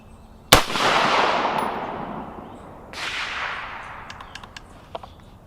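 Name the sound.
rifle gunfire from a JC Arms fixed-mag AR at the range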